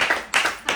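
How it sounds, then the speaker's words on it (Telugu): Three short bursts of hand clapping at a casual birthday gift-unboxing gathering at home, close and fairly loud, each burst separated by a brief pause. "క్లాప్స్ కొట్టుర్రి"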